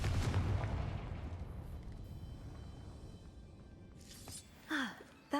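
The Confringo blasting spell going off in Hogwarts Legacy, a heavy booming explosion with a long rumbling decay, followed by brief game sound effects.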